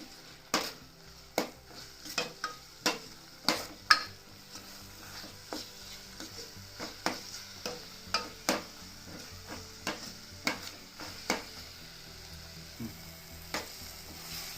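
Rasam masala frying in a pan while a spoon stirs it, sending out a regular run of sharp metallic scrapes and taps against the pan over a low, steady sizzle, close and without talk.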